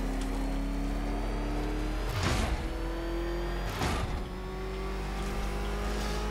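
The Batmobile in the PC game Batman: Arkham Knight drives with a steady engine drone, broken by two sharp whooshing bursts a little over a second apart, then settles back to a level hum with no talk.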